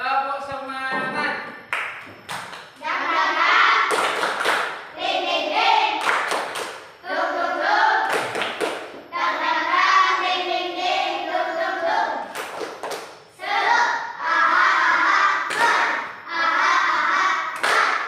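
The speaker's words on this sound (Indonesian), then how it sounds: "mari kita bersama-sama tepuk semangat" A primary school class leads the rhythmic tepuk semangat clapping chant, sharp unison claps interleaved with loud children's chanting voices in a steady patterned rhythm, close and lively throughout.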